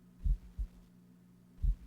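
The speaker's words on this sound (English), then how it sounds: "I had a friend who used to get really freaked out by the sound of heartbeats" Heartbeat sound effect in the Trilby's Notes horror game, low muffled thumps in a lub-dub pair followed by another beat, over a faint steady hum.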